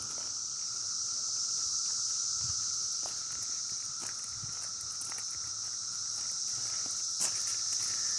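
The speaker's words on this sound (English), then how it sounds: "We're heading right back toward the cicadas, guys." A steady, shrill chorus of cicadas drones without pause, filling the background evenly from start to finish.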